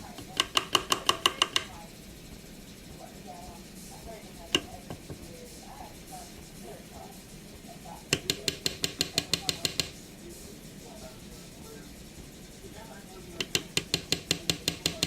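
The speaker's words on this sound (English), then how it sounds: "I'm using a soup spoon to do this" A soup spoon scoops and scrapes Jiffy cornbread muffin mix out of a filled muffin pan, giving three bursts of quick, rhythmic metallic clicks and scrapes separated by quieter handling noise, with a single sharp knock near the middle.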